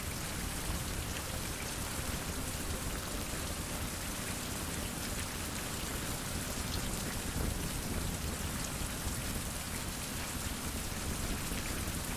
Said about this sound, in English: so while it's raining